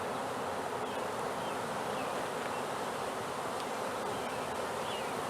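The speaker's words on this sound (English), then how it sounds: "So, here's our frame of bees." Bees hum steadily on a comb frame from a caught swarm, a dense, continuous buzz held close and even throughout without any talk.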